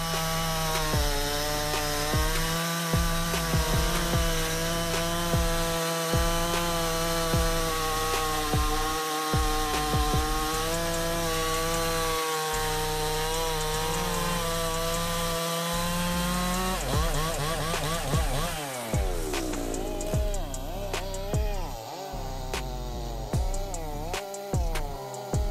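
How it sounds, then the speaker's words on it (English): A large chainsaw with a bar nearly 2 m long cuts through a big log, its engine droning loud and steady with pitch wavering under load, then revving higher near the end of the cut. "This is really a good saw. It only takes about 5 seconds to cut that log."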